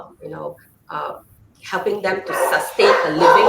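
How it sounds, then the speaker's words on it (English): A dog barks in a short burst of sharp, close yaps that rise in loudness toward the end, coming in over someone talking on a call. "Sorry, that's my dog."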